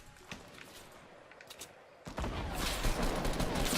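Gunfire in the video game Fortnite, a faint scatter of shots followed by a sudden louder burst of sustained rapid fire that continues to the end.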